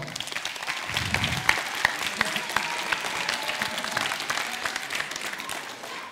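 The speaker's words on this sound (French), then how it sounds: "ces équipes qui sont derrière moi, vous pouvez les applaudir très fort" An audience at a game jam results ceremony applauds the competing teams, a steady wash of clapping that holds for several seconds at moderate volume with a few sharper claps standing out, and no talk over it.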